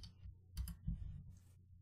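Keys clatter on a computer keyboard while a command is entered for a Python client-server program on a local machine, a short run of soft, close clicks with two louder bursts of keystrokes.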